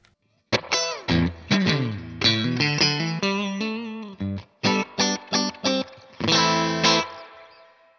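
An electric guitar plays through a TC Electronic Combo Deluxe 65 amp set at the edge of breakup with a hint of reverb. Loud, lightly distorted chords and single notes ring out in short bursts and sustained strums with brief pauses between.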